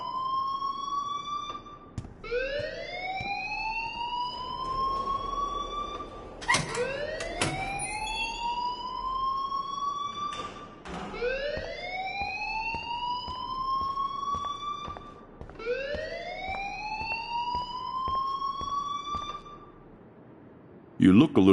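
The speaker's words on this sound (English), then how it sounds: "please turn off that alarm" A loud electronic alarm wails in repeated rising sweeps, each climbing in pitch for a few seconds before restarting, with short sharp bursts between cycles and a brief quiet gap near the end.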